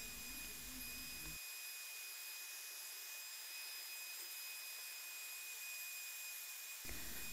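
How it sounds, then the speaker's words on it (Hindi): A homemade heat gun built from a hairdryer blows a steady, faint airy hiss while bending PVC pipe, its constant whir running alone without voices. "सो अब हम इस पीवीसी पाइप को इस हीट गन की मदद से मोड़ेंगे।"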